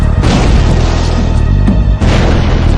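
An experimental explosion test gives a very loud, heavy, booming roar that stays dense and saturated throughout, with a second burst surging in near the end.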